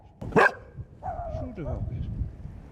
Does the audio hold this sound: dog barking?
yes